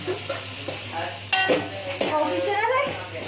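Green onions go into a pan of pulao cooked with peas, cinnamon and cloves, bringing soft sizzling and scraping stirs with a few sharp spoon knocks against the pan, while a voice talks over the cooking.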